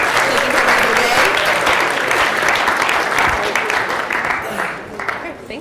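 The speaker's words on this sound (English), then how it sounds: "Give them a round of applause." A class gives a loud round of applause, dense clapping from many people holding steady and then thinning out toward the end.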